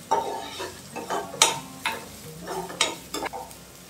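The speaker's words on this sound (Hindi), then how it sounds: "ह्यो भाजयो आमकां शिजोवपाच्यो ना, त्यो जस्ट फ्राय करपाच्यो तेलान" Capsicum fries in hot oil in a pan, a soft sizzle broken by repeated sharp utensil stirs and scrapes in an uneven rhythm, close and moderately loud.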